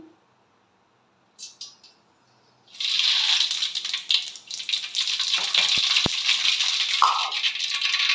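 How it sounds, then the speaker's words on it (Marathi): Mustard seeds crackle and pop in hot oil in a pan, a dense sizzling burst that starts abruptly after a few faint clinks and continues steadily up close. "मोहरी छानपैकी तडतडली"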